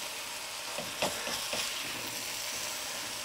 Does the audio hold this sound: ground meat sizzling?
yes